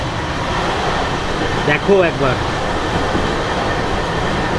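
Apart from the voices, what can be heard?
LHB Netaji Express train running at 110 km/h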